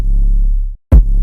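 A loud, heavy kick drum with a booming, sustained low tail, cut off briefly before another deep thump hits and rings on.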